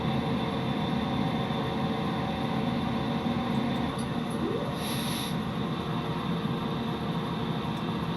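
A locomotive in the video game Train Simulator slows down, giving off a steady, unbroken low rumble of engine and rail noise that stays at an even level throughout, with no voices.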